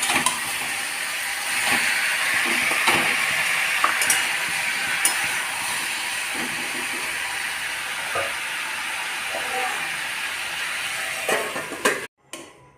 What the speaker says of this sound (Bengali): ভালো করে হলুদ, নুন, মিষ্টি দিয়ে নাড়তে লাগলাম।